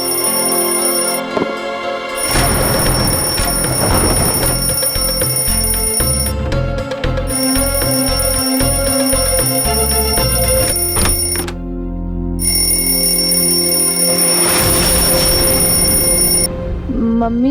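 Loud alarm ringing from just outside a bedroom early in the morning: a steady, repeating electronic ring pattern that carries on without pause, with no one talking over it.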